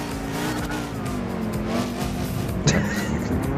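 A Corvette Stingray engine in Gran Turismo 5 roars continuously at high revs, with a brief sharp squeal near the end; no one speaks.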